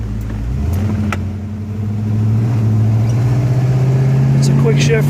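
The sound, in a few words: 1970 Oldsmobile Cutlass convertible driving, shifting gears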